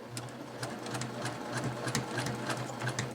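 A sewing machine stitches over a seam on a quilted table topper with a steady, close mechanical hum and regular needle clicks.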